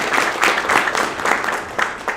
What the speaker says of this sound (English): let's give yourself a hand clap